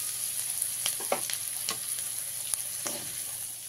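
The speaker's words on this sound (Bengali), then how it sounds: "এবারে পাস্তাটাকে আমি তেলের মধ্যে ভেজে নেব।" Dry pasta fries in oil in a pan for a spicy egg pasta, giving a soft, steady sizzle with occasional scraping and stirring clicks, fairly quiet and without voices.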